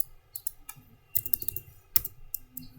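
Computer keyboard typing of a ping command, with scattered light key clicks in short irregular bursts, close and fairly quiet.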